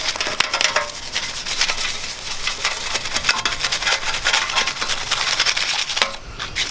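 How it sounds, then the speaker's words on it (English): An Apollo 125 pit bike gas tank is scrubbed clean, giving steady, rhythmic rubbing strokes that are close and fairly loud for several seconds without pause, with no talking. "And then I'm gonna scrub these down too. As well, the gas tank."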